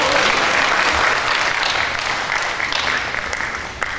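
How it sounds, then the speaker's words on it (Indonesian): Audience at a wayang shadow-puppet theatre performance breaks into loud, sustained applause, a dense clapping wash that tapers slightly toward the end. "Bisa kita beri tepuk tangan yang meriah."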